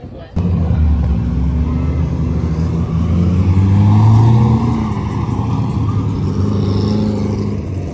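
A Whipple-supercharged Mustang race car at a street race, its engine a loud, close, continuous droning roar that climbs in pitch and swells near the middle before settling back, holding strong for the whole stretch.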